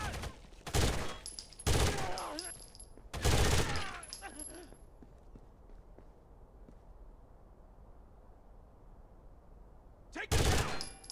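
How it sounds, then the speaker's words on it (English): Gunfire in Rainbow Six: Vegas during a Terrorist Hunt on the Dantes map: several loud, close automatic bursts in quick succession, a quieter stretch with low background noise, then one more burst near the end. "Taking fire!"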